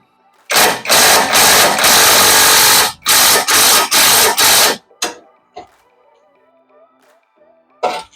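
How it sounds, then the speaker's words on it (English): Several loud, harsh bursts from a power tool loosening bolts during engine removal on a Honda Civic Mk8 Type R, each lasting about a second, separated by short gaps, followed by quieter clanks and clicks. "So I'm going to try with a power tool"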